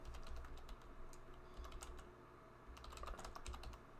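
Very faint typing on a computer keyboard, steady light key clicks in irregular runs over a low background hum, with no voice.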